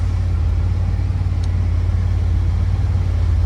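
A side-by-side utility vehicle engine idling at a small go-kart and SxS track in Florida, a steady low droning rumble held close and even for a few seconds, with no voices.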